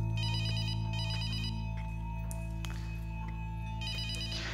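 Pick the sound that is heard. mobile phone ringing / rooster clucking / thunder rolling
mobile phone ringing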